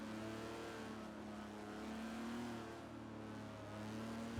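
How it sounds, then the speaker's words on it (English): A 1964 Aston Martin DB5 racing in Forza, its engine droning steadily and loud throughout with a sustained revving tone that rises and falls slightly, no voices over it. "he's driving the 1964 Aston Martin DB5"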